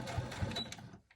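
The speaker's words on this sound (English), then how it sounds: "I won't subject you to any more of the sewing machine sounds." A sewing machine stitches fabric in a quick rhythmic mechanical chatter, running steadily before slowing and stopping near the end.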